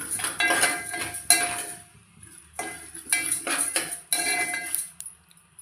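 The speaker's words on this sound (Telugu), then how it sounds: "మెంతులు వేసి వేయించుకుందాం" Fenugreek seeds dry-roast in a pan with coriander seeds for a spice masala. The seeds rattle and the spoon scrapes and clinks against the metal in three separate bursts, with quiet gaps between them.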